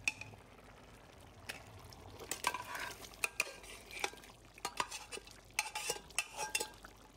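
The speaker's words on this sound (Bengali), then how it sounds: "তারপর চালের সাথে মাংসটা ভালো করে মিক্স করে দিচ্ছি।" Cooked beef is mixed into rice in a pot for Bangladeshi tehari, a spoon scraping and clinking against the metal in irregular strokes over a faint, soft sizzle.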